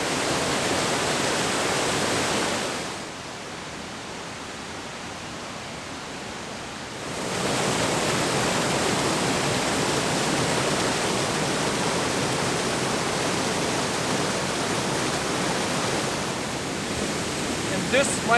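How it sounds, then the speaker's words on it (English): Loud, steady roar of a powerful waterfall on a river swollen with snowmelt, broad and rushing, briefly dipping quieter for a few seconds before surging back. "This is one of the waterfalls right there."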